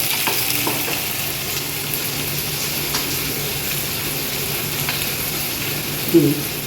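Green chillies frying in a pan, an even close sizzle with occasional stirring scrapes and a brief clatter near the end, no voices.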